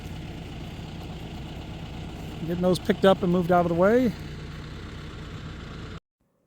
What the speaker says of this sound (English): The tractor does a pretty good job of picking up these logs and moving them and stacking them.